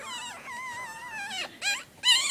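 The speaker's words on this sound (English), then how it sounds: "Here are Sage and Benji puppies" Two-day-old puppies from a newborn litter whimper and squeal in a steady, high, wavering whine, rising into sharper cries near the end, close by with no talking.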